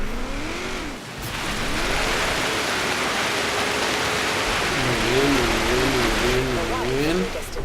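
A car engine in the Forza Horizon 3 racing game on a snowy mountain course drones continuously and loud, rising and falling in pitch as it revs and shifts.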